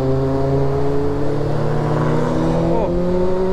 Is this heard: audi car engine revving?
yes